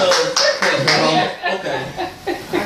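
A live audience at a birthday show claps in several quick bursts, with chuckles and laughter mixed in and voices speaking over the applause.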